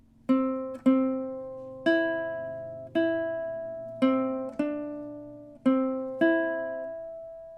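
A ukulele plays the opening measures of the Jamaican folk song Day-O, a steady run of about nine close, clear plucked notes, each ringing briefly before the next.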